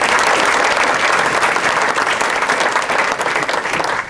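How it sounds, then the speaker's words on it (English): An audience applauds for Chris at an event, a dense, loud burst of clapping from a crowd that runs steadily throughout without any talk over it. "Chris should be applauded"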